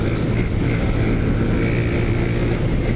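Small motorcycle fitted with a new aftermarket exhaust, running steadily with a continuous low engine drone and rumble, heard close amid wind noise without any speech.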